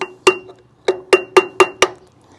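A screwdriver taps the metal edge of a trailer wheel hub dust cover, six sharp ringing metallic clinks in an uneven rhythm, close and fairly loud with no talking.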